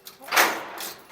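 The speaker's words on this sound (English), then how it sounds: "Just wanted to get that door open first." A door is pulled open in a truck-shop setting, a short broadband scrape and clunk that peaks early and then trails off, close and moderately loud.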